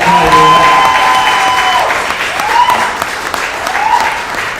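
A crowd claps for Coach Meany at a girls' volleyball team gathering, loud dense applause right from the start with voices and whoops over it, easing slightly as it goes on.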